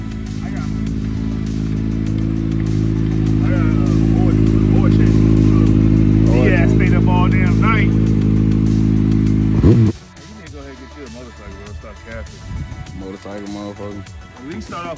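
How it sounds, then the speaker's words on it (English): A Kawasaki Ninja ZX6R motorcycle engine roars loud and close, rising steadily for about ten seconds as it pulls away, then cuts off abruptly, leaving voices talking over a quieter background. "Boosie Boo took off on the motorcycle."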